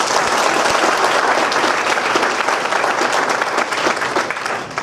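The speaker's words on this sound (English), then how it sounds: "let's give them all a big round of applause" Audience applause fills a real estate office celebration in Lansing, Michigan, a dense, steady wave of clapping that runs unbroken and only begins to thin slightly at the very end.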